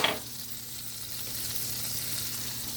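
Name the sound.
butter bubbling in a hot pan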